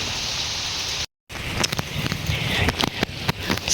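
Rain falling in a traditional village, a steady soft hiss with scattered drips and patters, briefly cut to silence near the start before resuming and building slightly.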